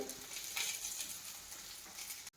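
Steady, soft sizzling of coconut, garlic and cashews frying in a hot pan, with light crackles throughout before it cuts off abruptly.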